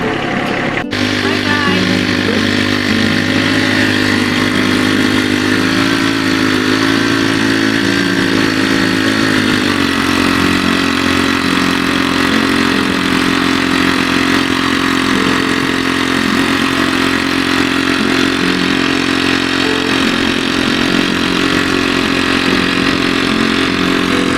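A loud, steady tractor engine idles close by in the woods during maple sap collection, a constant low drone with no change in pace.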